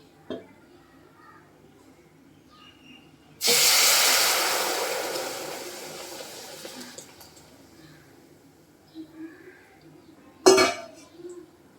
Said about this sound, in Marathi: त्याच पॅनमध्ये आपण आता हे दूध ओतून घेऊया